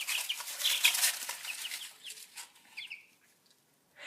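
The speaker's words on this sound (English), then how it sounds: "Got chickens having like a little fight." Chickens squabble in a brief scuffle nearby, a burst of agitated clucks and squawks that trails off into a few scattered calls before quiet.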